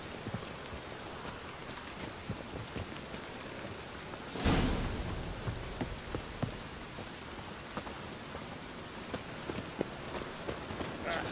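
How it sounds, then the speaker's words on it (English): Steady rain in the video game The Witcher 3 pours down in a continuous hiss with scattered drops spattering close by, and one louder burst of splashing rises briefly near the middle. "Lots of fuss over lots of rain. Rain again."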